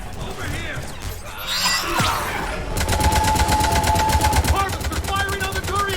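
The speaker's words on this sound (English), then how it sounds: "Harvesters firing on the Turians!" Harvesters firing on Turians in the video game Mass Effect, dense rapid automatic gunfire bursts building into a loud continuous barrage, with a crash midway and voices shouting over it.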